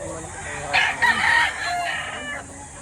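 A rooster crows once among chickens at a busy Batangas poultry market, its call rising and breaking in the middle, with faint clucks and market noise around it and someone talking nearby.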